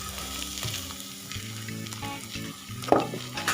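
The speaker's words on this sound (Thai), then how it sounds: "น้ำมันห้อนแล้วนะครับ เอาหอมกระเทียมนะครับ ลงไปคั่ว" Shallots and garlic dropped into hot oil and stir-fried over low heat for a spicy frog salad, a close, steady crackling sizzle with scraping stirs and a sharper spatter near the end, no voices.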